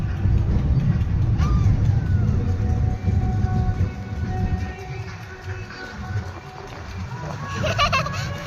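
Dragon-themed amusement train ride at a yatra fair starting up and running, a continuous low rumble and clatter with squeals and mechanical whines, voices talking over it.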